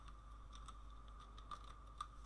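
Quiet keystrokes tap out an irregular run of clicks on a computer keyboard, close and soft, with a couple of slightly sharper presses near the end and no talking.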